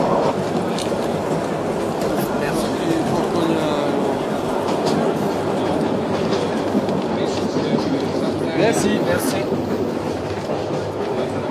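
Steady rumble and rhythmic clatter of a mountain train rolling along rails through the Corsican maquis toward Ajaccio, loud and continuous, with a brief spoken exchange in the middle.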